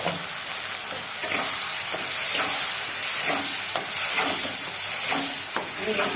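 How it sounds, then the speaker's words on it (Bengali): Garlic paste frying in a hot pan, a steady bright sizzle and hiss with soft stirring scrapes recurring every second or so, close and continuous. "আমি রসুনটা আগে কষিয়ে নিই"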